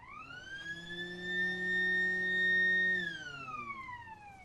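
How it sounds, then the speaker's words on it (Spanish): A single siren blast at a wartime gun test site rises to a steady, loud wailing tone, holds for a couple of seconds, then slides downward as it dies away. "Un rápido toque de sirena."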